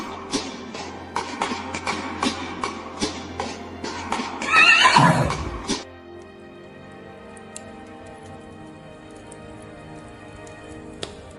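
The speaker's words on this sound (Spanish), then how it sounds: "de su sangre nació Pegaso, el caballo alado, la más bella y noble criatura que ha existido sobre la tierra" The winged horse Pegasus neighing, a loud whinny mid-clip amid rhythmic ticking and clopping taps, followed by a quieter tail with faint scattered clicks.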